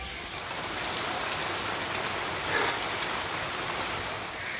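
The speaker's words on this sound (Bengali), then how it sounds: "বাইরে ভালোই বৃষ্টি হচ্ছে," Heavy rain falling outside, a steady even hiss of dense rainfall heard from indoors at moderate distance, with no voices.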